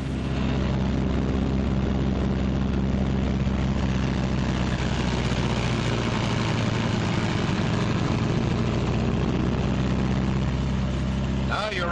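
Engines of a 1944 B-26 bomber run up together on the ground, a loud steady droning roar with heavy low rumble throughout.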